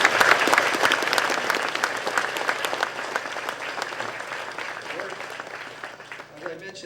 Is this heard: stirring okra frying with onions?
no